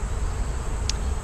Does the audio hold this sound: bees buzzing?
yes